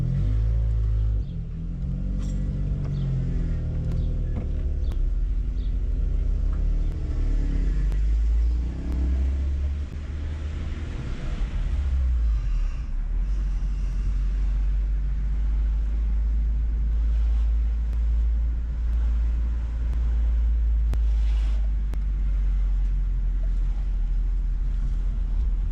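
A car drives through South Philadelphia and Chinatown city streets, its engine giving a steady, close low rumble that swells slightly as it accelerates, with faint street noise throughout.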